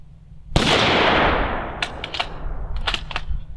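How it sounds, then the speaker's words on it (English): A bolt-action .308 rifle fitted with a short Dead Air Sandman K suppressor fires one supersonic round, a sharp loud crack that decays over about a second, followed by a few quick metallic clicks of the bolt, close up with no talking. "Start with some supers in 308. Shouldn't be too bad out of a bolt gun."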